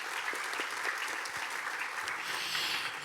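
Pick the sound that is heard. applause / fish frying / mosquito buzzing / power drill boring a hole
applause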